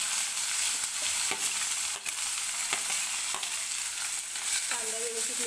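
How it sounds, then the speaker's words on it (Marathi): Finely chopped onion fries with cumin in a pan, giving a constant loud sizzle broken by a handful of spatula scrapes and taps at an uneven pace. "बारीक चिरलेला कांदा टाकून घेणार आहे सुरुवातीला."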